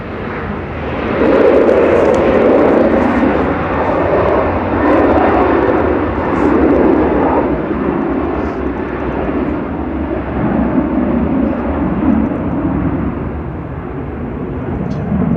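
A KLM airliner takes off at Manchester Airport, its engines building to a loud, sustained roar that slowly eases as the plane climbs away.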